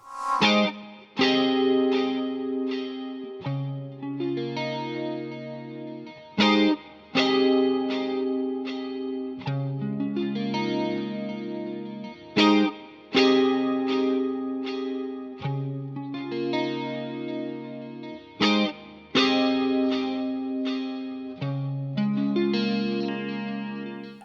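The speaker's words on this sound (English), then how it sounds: "an Ampero clean amp with some effects like a chorus, a ping pong delay and a plate reverb" Clean electric guitar through a Hotone Ampero 2 clean amp plays repeated chords and picked phrases drenched in shimmering chorus, bouncing ping-pong delay and a lush plate reverb tail.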